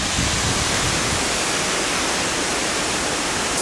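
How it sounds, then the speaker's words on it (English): Wailea Falls, an 80-foot waterfall on the Road to Hana in Maui, roars as a loud, continuous broadband rush of falling water heard up close, with no voices. "we're going to Walea Falls, which is like an 80-foot waterfall"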